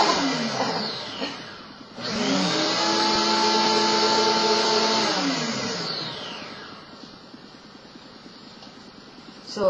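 A kitchen blender motor spins up with a rising whine, holds a loud steady roar for several seconds, then winds down, heard close and alone.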